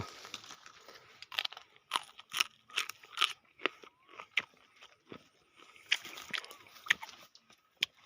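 Crunchy bites and chewing of a fruit picked in a farm garden, close up: a run of irregular crisp crunches and mouth sounds with short pauses between them, fairly quiet.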